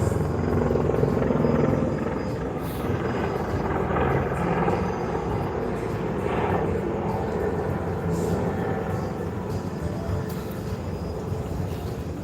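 A helicopter flies over downtown Las Vegas, its rotor thumping and engine whine steady and moderately loud throughout, mixed with city street noise and no clear talk.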